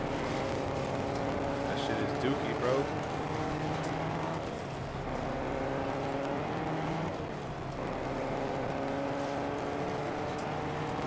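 Car engine in Fortnite hums steadily and fairly loud throughout, with slight swells as it drives on. A person talks over the motor.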